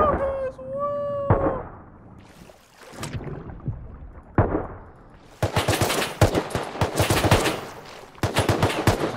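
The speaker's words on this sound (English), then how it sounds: "I'm getting shot at." Rapid bursts of video game gunfire crackle through the second half, dense volleys with brief gaps, loud and close, after a stretch of quieter game sounds and chatter.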